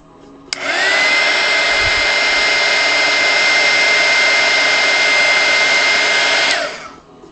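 A heat gun blows hot air onto a spray-painted t-shirt: a steady, loud, close whooshing roar that switches on abruptly, holds evenly for about six seconds, then cuts off and winds down.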